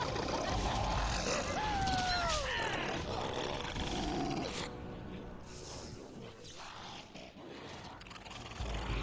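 Darkspawn creatures snarl and growl in Dragon Age: Origins, rough guttural roars with rising and falling moans over dungeon ambience, fairly faint and fading in the second half.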